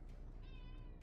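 A domestic cat lets out a single drawn-out meow, close by but fairly quiet, over faint background noise.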